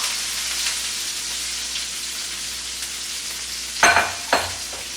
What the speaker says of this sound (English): now I'm going to go ahead and pour our vegetables, all the chopped vegetables